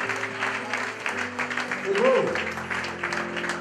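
A church congregation applauds in a steady patter of clapping heard under a voice and music, with one short exclamation.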